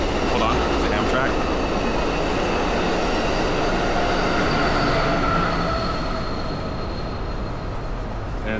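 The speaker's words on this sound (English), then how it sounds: "Hold on, it's an Amtrak." An Amtrak train rolls past close by in a long, loud, continuous roar of wheels on rails, with faint squealing tones running through it and the sound easing slightly near the end.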